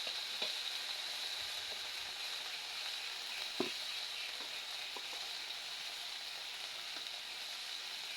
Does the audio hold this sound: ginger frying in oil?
yes